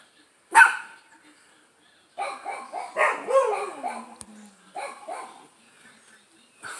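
An Afghan Hound and other dogs bark at a deer in the driveway and front yard: one sharp bark, a pause, then a run of close, excited barks mixed with whiny yips.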